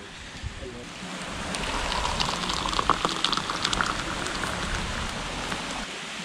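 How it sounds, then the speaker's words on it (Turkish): Heavy rain pours down steadily at Uçmakdere, Turkey, hissing and pattering on a nearby surface, growing denser in the middle before easing slightly. "Çok iyi yağmur yağıyor şu anda."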